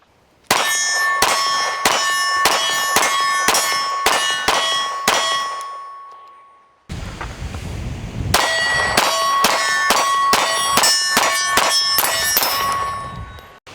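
A Smith & Wesson Bodyguard 2.0 .380 pistol fires 95-grain CCI Blazer Brass rounds in two quick strings of about eight shots each, separated by a pause. Every crack is followed by a bright metallic ring.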